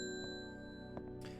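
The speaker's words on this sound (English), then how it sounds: "so maybe we just ring the bell" Bell rung in the video game Strange Horticulture, a short bright ding with a sustained tonal ring over steady background music, a few soft transient taps following near the end.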